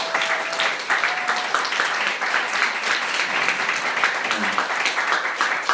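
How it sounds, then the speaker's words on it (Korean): A church congregation applauds in encouragement of its youth leaders, a sustained, evenly spread clapping with a faint voice or tone at the start. "우리 또한 격려의 박수를"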